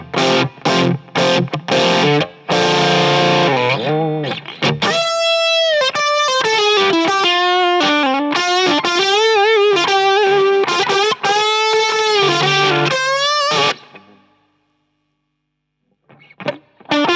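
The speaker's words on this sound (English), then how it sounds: "It can sound pretty weird if you actually dial the tone knob to the maximum." Harsh, fizzy overdriven electric guitar through a Boss Blues Driver pedal with the tone knob at maximum plays choppy riffs and then sustained bending notes with a bright, piercing edge, stopping abruptly before a few faint trailing sounds.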